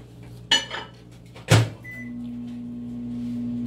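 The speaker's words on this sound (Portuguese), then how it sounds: "Então eu vou colocar aqui no micro-ondas pra derreter." A microwave oven starting up to melt butter: two sharp clunks of the door and button, then a steady low hum with a brief beep as it begins running.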